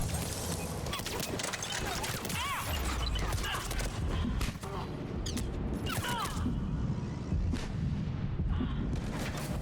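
Sustained gunfire fills a dense Mass Effect 3 combat scene, rapid shots and blasts layered over a loud, continuous background of battle noise and mechanical whines with no pause across the stretch.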